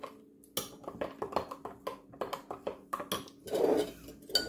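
A spoon clinks and scrapes around a mixing bowl as honey is worked into soda bread dough, a run of quick, close knocks and taps with a brief softer swirl near the end, no talking.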